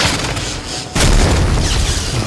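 An explosion effect in a French audiobook of a Warhammer Mordheim tale, where an electric discharge hurls a Skaven into a wattle-and-daub wall: a loud sudden boom cuts in after a steady rumble and then roars on, sustained and heavy.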